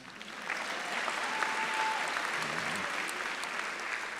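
Audience applause for the vice chair at a 2022 charter school graduation ceremony, a steady wash of many hands clapping from start to finish with no voices over it.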